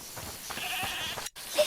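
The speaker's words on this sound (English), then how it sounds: "Listen, is that the goat he talked about?" A goat bleats in the video game A Plague Tale: Requiem, a short, wavering nasal cry over a steady ambient game background, followed by a brief silence and a faint second call.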